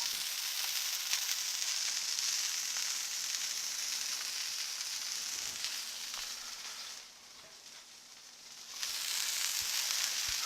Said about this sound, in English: Just listen to that sizzle, guys.